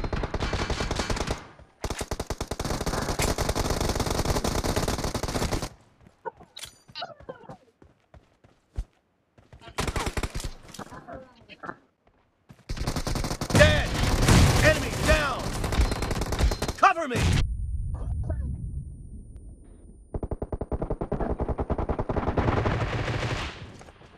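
Rapid bursts of automatic gunfire from the mobile shooter PUBG Mobile in a team deathmatch, loud volleys broken by short gaps, with faint game footsteps and a voice talking over parts of it.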